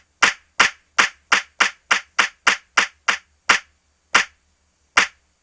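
Punchy clap sample triggered on an Akai MPC One pad, about thirteen sharp dry hits, first in a quick steady run, then spaced out, loud and alone.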